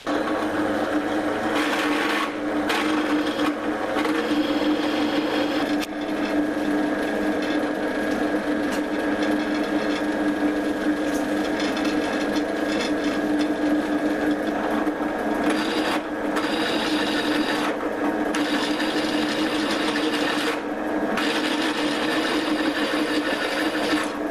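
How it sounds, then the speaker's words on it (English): A steady mechanical whine of a drill press drilling 19mm holes in steel plate runs throughout, close and continuous, with brief shifts in pitch as the bit cuts into the metal. "So I'll take you over to the drill press for that."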